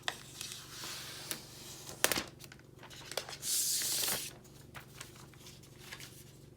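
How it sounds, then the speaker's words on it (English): Protective plastic film peeled off the back of a silver iPad Air 3 10.5-inch, with crinkling, scattered ticks and a sustained tearing rasp midway, close and fairly quiet. "Let's peel off the plastic."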